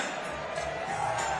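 Basketball crowd at the Copper Box arena in London during the tense closing minutes of a BBL Championship game between London Lions and Leicester Riders, a steady murmuring roar of many voices with faint cheers rising over it.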